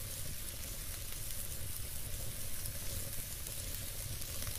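Garlic and onion sauté in hot cooking oil as the base for gisadong sayote, a steady, close sizzle and crackle of frying that holds constant throughout without talking.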